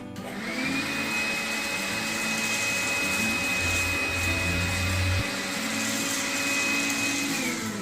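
A Makita cordless handheld vacuum cleaner runs steadily at a moderate level, a constant motor whine with a high tonal hum that holds without pause throughout.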